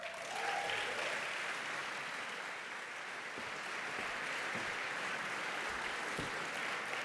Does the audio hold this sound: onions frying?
no